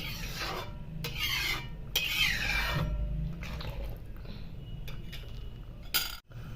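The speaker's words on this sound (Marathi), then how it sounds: "आपली एक पळी घ्यायची आणि पळीने कालवणाची कन्सिस्टन्सी चेक करायची" A metal ladle scraping and stirring a thick green pea curry with ground peanut paste in a pot, with rasping, clinking strokes in bursts, close and fairly loud, no talk.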